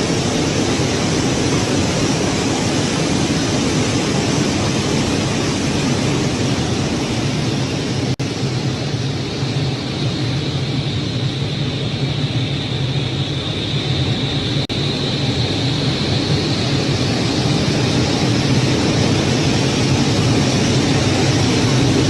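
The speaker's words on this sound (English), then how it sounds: "this is a guy in an airplane" Steady broadband roar of an airplane in flight, heard through a played video, continuous and loud for the whole stretch with no talking.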